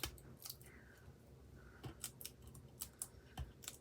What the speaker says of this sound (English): so let's peel these off.